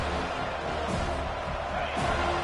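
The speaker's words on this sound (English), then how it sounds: "Decibels rising as the crowd gets behind this defense on 3rd down." A stadium crowd in a football video game roars steadily on a third-down defensive stand, a broad continuous swell of cheering with a couple of brief louder surges.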